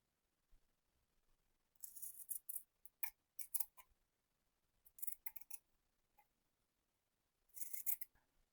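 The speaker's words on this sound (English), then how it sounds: "I'm going to cut along these." Scissors cutting fabric for continuous bias binding, in short bursts of crisp snipping: several quick clusters of cuts separated by pauses, close and quiet, with no voices.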